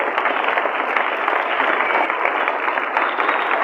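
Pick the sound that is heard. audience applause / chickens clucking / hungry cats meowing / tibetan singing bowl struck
audience applause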